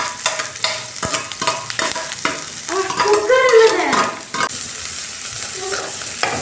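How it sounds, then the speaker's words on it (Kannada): Chopped onion and green chili dropped into hot oil with mustard seeds, a loud sizzle that swells and then settles, with stirring scrapes and clinks in the pan close by. "ಇವಾಗ ನಾನು ಈರುಳ್ಳಿ ಹಾಕೊಂತ ಇದ್ದೀನಿ. ಈರುಳ್ಳಿ ಪ್ಲಸ್ ಮೆಣಸಿನ್ಕಾಯಿ ಹಾಕೊಂತ ಇದ್ದೀನಿ."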